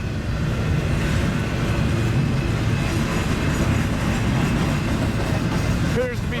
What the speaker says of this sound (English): Pretty long train for only having 2 locomotives on it.